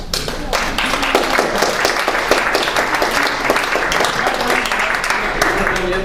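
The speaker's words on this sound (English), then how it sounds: "Yes, please hold your applause." An audience at a university department demonstration event claps, dense, steady applause from many hands that holds throughout without fading.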